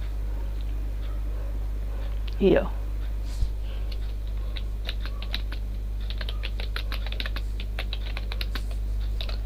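Computer keyboard typing in a classroom setting, a steady run of light, quick key clicks through most of the stretch over a constant low electrical hum, with one brief louder sweep near the start.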